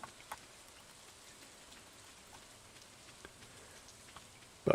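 Steady soft rain patters in the Stardew Valley farming game, a faint continuous hiss with scattered light drop ticks throughout, then a brief louder burst at the very end.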